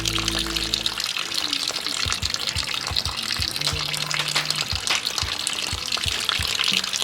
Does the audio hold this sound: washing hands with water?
yes